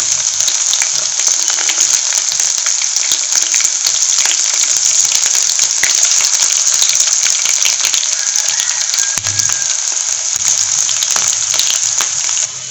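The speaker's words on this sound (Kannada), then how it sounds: "ಬೆಳ್ಳುಳ್ಳಿ ಸ್ವಲ್ಪ ಗೋಲ್ಡನ್ ಬ್ರೌನ್ ಆಗುವಷ್ಟು ರೋಸ್ಟ್ ಆಗಬೇಕು" Garlic roasts in hot oil for lemon rice, giving a continuous bright sizzle and crackle close up with no break and faint occasional stirring.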